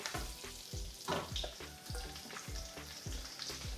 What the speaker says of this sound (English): we're now going to add the onions in, and we're going to cook them low and slow until they're lovely and caramelized